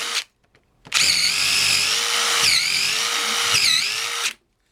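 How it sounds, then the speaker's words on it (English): An impact driver whirs loudly for a few seconds, its pitch dipping briefly twice under load as a screw bites into wood, then stops. "So now I'll try the impact driver."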